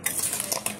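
Salt and chili being mixed into fish pickle, a quick run of close clinking and scraping stirs against a vessel, steady and alone.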